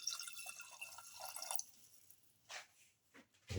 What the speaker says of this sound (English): Pour in 2 cups of water.